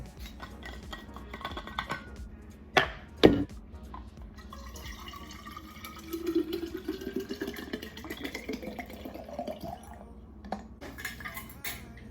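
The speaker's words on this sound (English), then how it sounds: "About to fill up my water bottle real quick" A water bottle is filled from a tap or dispenser, a soft rising trickle and fill lasting several seconds, preceded by a couple of sharp clinks of handling, fairly quiet and with no talk.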